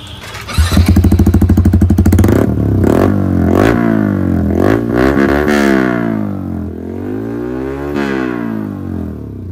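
A Yamaha R15 V4 sport motorcycle fitted with an Austin Racing aftermarket exhaust revs loudly at close range, with a rapid popping idle burst followed by several rising and falling throttle blips that sweep up and down in pitch.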